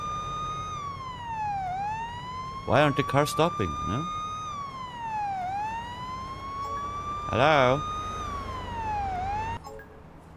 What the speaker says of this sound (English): let's put on sirens